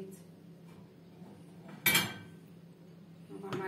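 A frying pan clanks down onto a stove once, a sharp bright clatter amid quiet kitchen background, followed by a lighter knock near the end.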